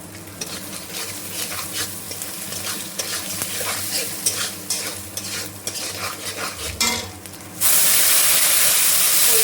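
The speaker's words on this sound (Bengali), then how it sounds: "একটু জল ছিটিয়ে আর 2 মিনিট একটু মশলাটা ভেজে নিই" Spice paste of peanuts, coconut powder, turmeric and salt frying in a pan, with continuous sizzle and irregular stirring scrapes, then a sudden loud hissing surge as water is sprinkled in near the end.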